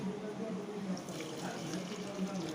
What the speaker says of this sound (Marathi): मस्त तुळशीला पाणी घालूया